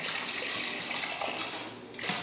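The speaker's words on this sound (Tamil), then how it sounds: "இதில் தண்ணி ஊற்றிடலாம்." Water is poured into a pressure cooker holding diced peeled potato for a Kumbakonam kadappa, a steady splashing stream for about two seconds, close and clear.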